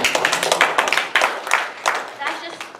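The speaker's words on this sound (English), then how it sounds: "so can we get a round of applause for that?" A small audience gives scattered, uneven clapping in a lecture setting after student-led protests are mentioned, with bursts of claps mixed with people talking.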